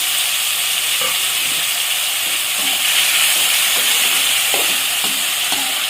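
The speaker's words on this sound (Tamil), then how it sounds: "தக்காளி போடணும். அதோட வதக்கணும்." Tomatoes sautéing in a pan for a village-style screw fish curry give a continuous, loud frying hiss, with scattered soft scraping clicks as the mixture is stirred.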